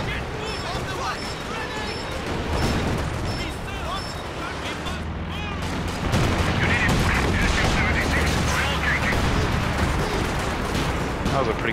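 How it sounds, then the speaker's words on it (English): Artillery barrage in Company of Heroes, a rapid series of loud booming impacts and gunfire crackle that thickens toward the end, with players talking over it. "That was a pretty crap barrage, in all honesty."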